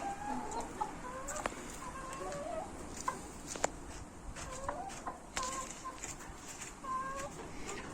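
Several Black Mottled Bantam Cochin chickens cluck and murmur steadily nearby in a coop, with occasional sharper squawks breaking through the soft, continuous flock chatter.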